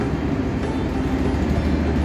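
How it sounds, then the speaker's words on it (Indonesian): Fajar Utama passenger train on the Jakarta to Yogyakarta run, with new stainless steel premium economy and executive cars, heard from inside as a steady loud rolling rumble and low drone that holds throughout. "Inilah rangkaian kereta api Fajar Utama Yogyakarta menggunakan kereta kelas ekonomi premium dan eksekutif stainless steel terbaru"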